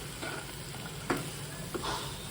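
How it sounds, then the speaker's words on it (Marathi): A spoon stirs ridge gourd with salt and masala in a pan, soft scraping strokes over a continuous low sizzle, with a few distinct louder scrapes spaced irregularly. "मीठ टाकून घेते आणि छान मिक्स करून घेते आपल्या ढेमशीला पूर्ण मसाला लागायला हवा"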